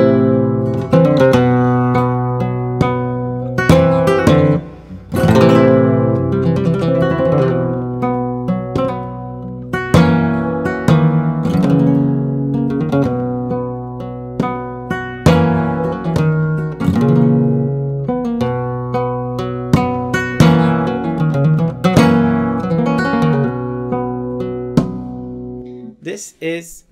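A flamenco guitar plays seguiriyas in the Phrygian mode, with loud rhythmic strummed chords and rasgueado bursts sounding alone and close throughout.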